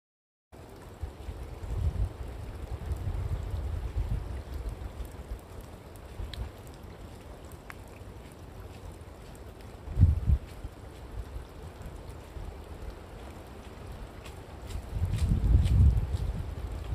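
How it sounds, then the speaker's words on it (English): Rain falls on and off outdoors on a mountain hiking trail, with a soft steady patter under gusts of wind that swell near the start and again toward the end, all fairly quiet. "Still raining out on and off. Windy."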